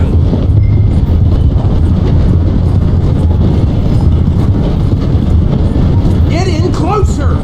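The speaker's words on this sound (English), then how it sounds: "The train is slowing down to go through the station." A steam-era train in the Red Dead Redemption 2 video game rolls slowing through a station, a loud continuous rumble of wheels and carriages with faint high squeals near the end.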